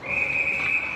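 A single sustained referee whistle blast at an ice hockey game, shrill and steady for about a second, with faint background noise.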